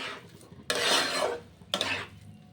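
Rice and lentils for a Bengali vegetable khichuri are stirred and fried in a pot, giving two bursts of scraping, rattling grains against metal with a faint sizzle between them, close and alone.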